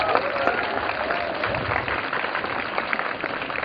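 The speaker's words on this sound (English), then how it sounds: "I think you deserve a huge round of applause." An audience at an event in Jaipur claps after a children's performance, a lively, dense round of applause at steady loudness with a few faint voices mixed in.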